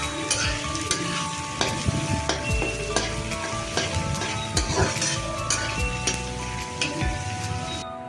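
Chopped green chillies and onions fry in oil in a wok, a dense steady sizzle with frequent stirring scrapes and clinks throughout.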